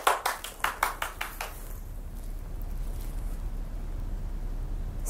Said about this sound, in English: And you need to clap.